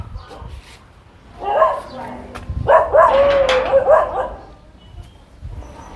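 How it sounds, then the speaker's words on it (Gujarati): Two dogs bark on a road outside a house, a burst of yelping barks early on and a longer, louder run of barking and whining in the middle, fairly close, with faint talk around it. "બે ડોગી ભસતા જાય"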